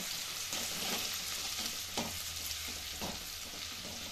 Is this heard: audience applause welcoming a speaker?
no